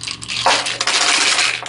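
Three small dice clatter and rattle across a tabletop during a game of Roll for the Galaxy, a brief loud burst of tumbling clicks with no voices.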